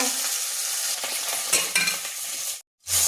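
Bay leaves hit hot oil for a tempering and crackle in a loud, steady sizzle, with a few spattering bursts before a brief silent gap and a final burst of frying.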